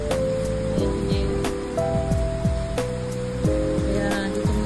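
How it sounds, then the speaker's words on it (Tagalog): Heavy rain pours down outdoors beside a parked vehicle, a steady, loud hiss that fills the whole stretch, with a faint tonal hum and scattered clicks layered on top. "Ayan, ulan. Lakas ng ulan."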